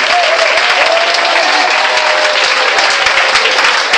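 A church congregation applauds for Jesus during a service, a steady, dense wash of clapping that fills the whole stretch at a constant loud level with no pauses and no voices above it.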